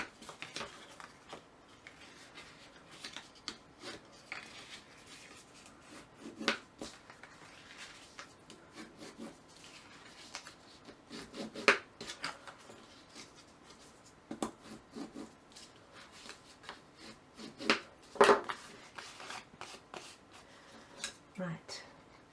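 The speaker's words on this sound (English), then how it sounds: "Fold and burnish all of the" Paper being folded and burnished for the lid of a handmade gift box, soft rubbing and creasing strokes repeated at low level over quiet room tone, with occasional light taps of paper and tools.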